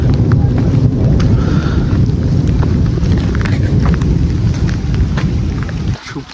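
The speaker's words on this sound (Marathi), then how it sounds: "बघू शकता मंडळी पाऊस चालूच आहे." Steady, loud rain with gusting wind buffeting the microphone on a bastion of Pratapgad fort during the monsoon, a dense roar throughout with no voices, dropping off briefly near the end.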